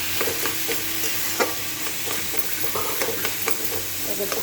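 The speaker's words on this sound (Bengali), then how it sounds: "এটাকে ভালো করে এখন এটাকে মিক্স করবো।" Mashed boiled banana stem mixture frying in a pan while being stirred, with a steady close sizzle and repeated scraping strokes of the spoon against the pan.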